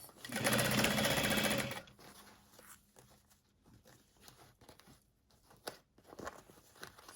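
A sewing machine stitches around a bag gusset in one loud rapid burst lasting under two seconds, then stops, leaving quiet handling noises and faint taps.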